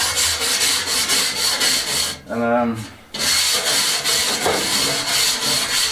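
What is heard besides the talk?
scraping loose old paint off a stone wall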